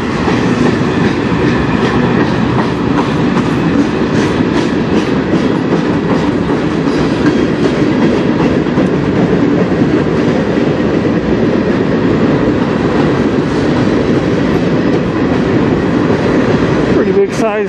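A CN freight train on the Strathroy Subdivision passes close with empty lumber cars, a loud continuous roll with rhythmic clickety-clack of wheels over rail joints and a brief squeal near the end.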